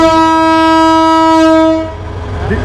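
A train at Laksam railway junction sounds its horn in one loud, sustained blast lasting about two seconds, followed by rumbling rail noise.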